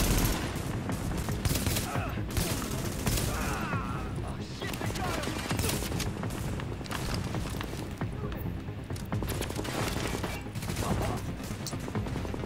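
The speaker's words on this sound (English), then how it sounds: "I'm getting good with this rifle now" A rifle fires in The Division, with dense, rapid bursts and single shots cracking repeatedly from near and mid-distance, layered with other gunfire in a busy firefight, while voices talk over it.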